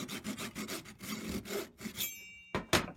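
A hand saw cuts a dovetail in wood while following a guide, making a quiet, close series of rhythmic rasping strokes that end with a few final scrapes.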